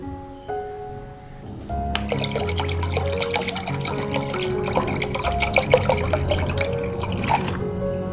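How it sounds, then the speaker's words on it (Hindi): About a glass of water poured into a cooking pot of curry pakora, a burst of splashing and dripping that starts suddenly and runs steadily for several seconds, close and moderately loud. "मैं 1 गिलास पानी का भी इसमें शामिल कर देती हूँ।"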